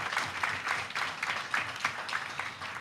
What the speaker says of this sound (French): Voilà, sous vos applaudissements s'il vous plaît.